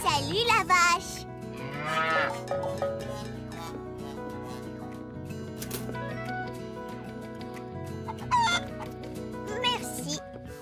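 A cow moos in long, low drawn-out calls over a backdrop of music, with a few squeaky sounds mixed in.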